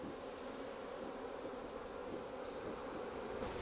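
Honey bees buzz inside a small split hive with few bees: a steady, low, even hum that runs unbroken and fairly faint, with no voices.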